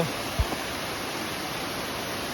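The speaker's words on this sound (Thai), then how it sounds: "น้ำตกหนาว" Nam Tok Nao waterfall in Ranong rushes as a dense, steady roar of falling water, with a soft thump at the start before the flow continues evenly.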